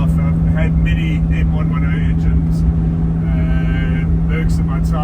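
Mercedes-Benz W123 280E with the M110 engine and automatic gearbox, revving while driving, a loud steady engine drone with a strong low hum, mostly covered by someone talking over it.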